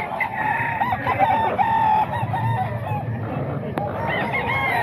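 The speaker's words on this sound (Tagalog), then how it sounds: "Ito manok ni Boss Tony" A rooster crows and clucks steadily over a constant noisy background, fairly loud and close, with a brief sharp click near the end.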